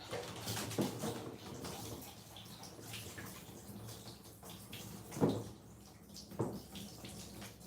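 A nozzle sprays water during a dog's bath at a grooming tub, with a faint, steady hiss and a few louder splashes and knocks against the basin.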